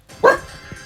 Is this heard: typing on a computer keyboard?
no